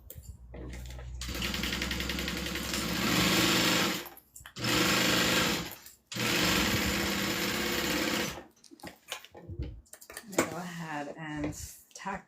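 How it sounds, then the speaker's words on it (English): A sewing machine stitches down a fabric panel in bursts of steady whirring, three long runs separated by short pauses, close and loud, then lighter stop-start stitching with a voice talking at the end. "Clip it in place and then sew it down."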